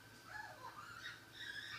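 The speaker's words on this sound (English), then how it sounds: "you can hear my birds in the background and they're like really obnoxious." Pet birds kept indoors calling faintly in the background, a few soft squawking and chattering calls rising and falling over quiet room noise.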